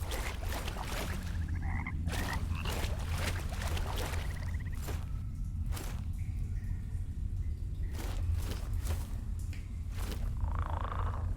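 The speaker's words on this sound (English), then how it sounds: "big frog?" Giant frog in the video game Mortal Shell croaks repeatedly in bursts over a steady low game ambience, fairly close and loud with a wet, rattling tone.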